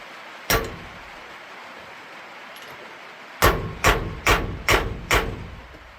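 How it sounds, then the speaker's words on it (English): A single metallic hammer strike on a stuck lug nut, a pause, then five sharp evenly spaced blows on metal, loud and close. "So you might have to take a hammer"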